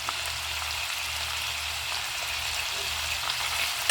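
Prawns frying in a little oil with turmeric, a steady, dense sizzle that holds at an even level throughout, close by and without any talking.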